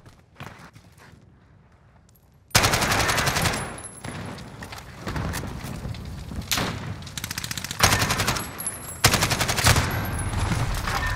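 Rapid bursts of gunfire ring out in a first-person shooter video game, loud, close and repeated in several clusters after a quieter opening.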